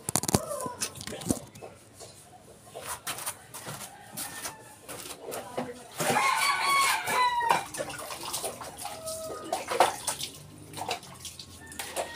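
A rooster crows once in the middle of the clip, a clear rising and falling call over outdoor bustle, with clucking fowl and scattered knocks and splashes of water around it.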